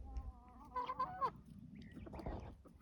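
Game birds on a homestead honk and call in a noisy burst, a rooster with big spurs among the flock, the calls loud and close, overlapping one another over rustling ground noise.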